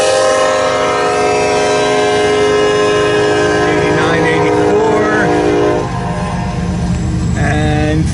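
A manifest freight train proceeds eastbound after a crew change, its loud sustained horn chords sounding over a steady heavy rumble of moving railcars, with a voice faintly present.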